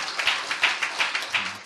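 A church congregation applauds in a steady, moderately close round of clapping with rhythmic peaks, and no talk over it.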